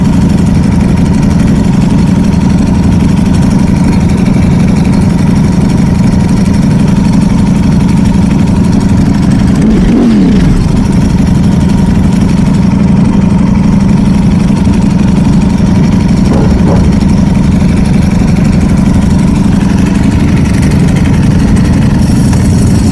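Ducati Desmosedici motorcycle fitted with a GP7 exhaust idling close by, a loud steady low throb with brief blips of revving around the middle and again later.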